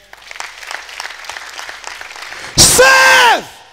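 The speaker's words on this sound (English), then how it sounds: "Clap for him." A church congregation claps for a man during a service, the applause mixed with talk and movement, then a loud burst of clapping and a sweeping electronic tone near the end.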